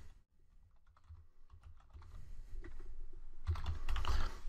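Computer keyboard typing as an email address is entered, quick irregular key taps that start sparse and build into a denser burst of clicks, close and clear with no speech over them.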